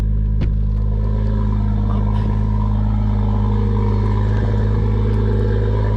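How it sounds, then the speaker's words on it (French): A BMW M140i fitted with an Akrapovic exhaust runs with a loud, close, steady deep rumble, and a short click comes near the start. No one speaks. "On va allumer tout ça et écoutez-moi bien ce bruit avec la ligne Akrapovic."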